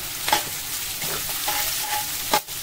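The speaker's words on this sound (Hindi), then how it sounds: "अब इसमें ये प्याज डाल दें, गैस को तेज कर दें" Onions frying over a high gas flame for Indian-style Mongolian rice, a steady close sizzle with a few brief stirring scrapes and clanks.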